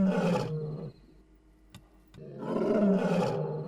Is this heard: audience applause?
no